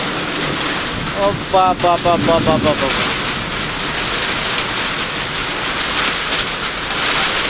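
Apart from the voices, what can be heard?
heavy rain in Kailali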